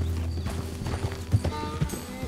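Hooves clop in a steady, uneven rhythm as a horse moves in Red Dead Redemption 2, close and fairly loud over a busy game soundscape.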